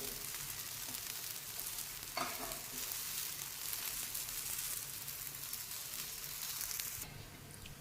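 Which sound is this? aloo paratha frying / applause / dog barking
aloo paratha frying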